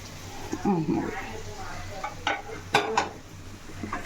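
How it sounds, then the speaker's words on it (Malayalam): Onions sautéing in oil in a pan for a Kerala-style roasted-coconut chicken curry, with soft stirring scrapes and faint sizzling, a few sharper utensil clinks against the pan near the end. "ഇനി സവോള നല്ലപോലെ എണ്ണ കിടന്ന് വഴന്ന് വരട്ടെ"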